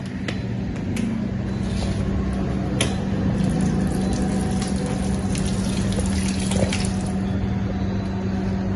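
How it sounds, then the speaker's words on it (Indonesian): A metal workpiece plate is washed in alcohol during a manufacturing lab practical, giving steady liquid sloshing and splashing with a constant background hum and occasional light clicks. "mari kita cuci pada cairan alkohol agar dapat melepaskan dari plate tersebut"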